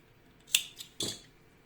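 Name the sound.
cutting remaining crochet yarn with scissors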